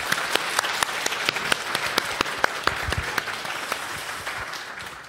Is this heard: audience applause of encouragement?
yes